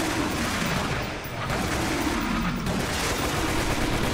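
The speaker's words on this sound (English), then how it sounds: "Shotgun!" Shotgun blasts in the Resident Evil Umbrella Chronicles rail-shooter game, coming as dense, repeated booming shots with dull crashes and other game effects filling the whole stretch, and no pause between them.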